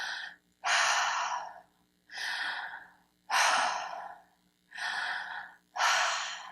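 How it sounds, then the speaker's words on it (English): Two people breathe together in slow, matched rhythm through mouth or nose, with about six loud, airy inhale and exhale cycles close to the mic and short quiet gaps between them. "You and your partner are going to breathe in sync, in and out of your mouth or nose"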